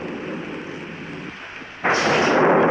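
Heavy rain in a film scene roars as a steady, loud wash, with a louder, brighter surge of downpour near the end.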